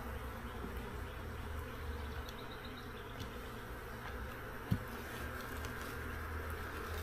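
Caucasian honey bees buzz steadily around a hive frame, a dense continuous hum of many insects at close range, with a single faint knock partway through.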